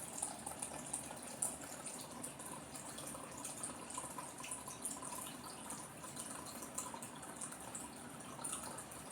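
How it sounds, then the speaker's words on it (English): Chicken broth pours steadily into a pot, a continuous splashing trickle with faint drips, close by and with no voices. "Chicken broth makes such a mess when you pour it."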